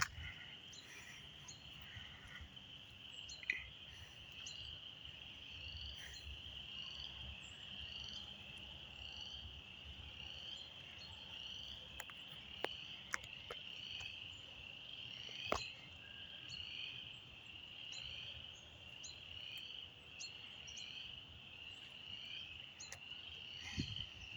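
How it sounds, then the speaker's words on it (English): Crickets chirp at night in a quiet outdoor setting, a thin, continuous high trill from many insects mixed with croaking frogs, faint and distant, broken by a few soft clicks. "All of a sudden, like every cricket in the neighborhood just went off."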